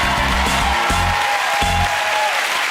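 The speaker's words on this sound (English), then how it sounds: "Let's have a huge round of applause for the boys." A concert audience at a televised charity birthday show applauds the boys of a Blind Date comedy sketch, loud sustained clapping over a pounding, rhythmic band playing underneath.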